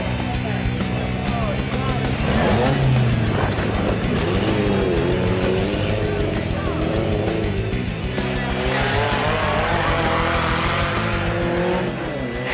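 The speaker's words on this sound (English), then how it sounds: "That's rock racing right there" An off-road rock racing vehicle roars loudly and continuously as its tires skid and scrabble, the engine note rising and falling close by.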